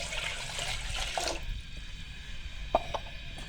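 Water poured from a vessel into a saucepan on a stove top, a steady trickling pour for about a second and a half, then quieter drips and small splashes against a faint background hiss.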